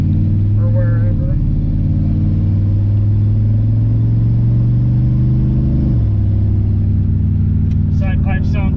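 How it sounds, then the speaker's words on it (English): A 1976 Corvette with side pipes drones loudly at high RPM, a steady rumbling exhaust tone that shifts as gears change, with brief talk in the background at the start and end. "Side pipes sound good at the upper RPMs"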